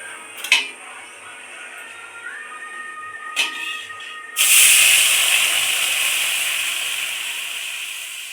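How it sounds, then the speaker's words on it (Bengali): Water poured into a pot of frying lentils for a bitter dal with papaya, bursting into a loud hiss that slowly fades, after a few sharp metallic clinks of utensils against the pot. "ডালটা ভালো করে ভেজে নেবো হয়ে গেছে এবার আমি জল দিয়ে দেবো"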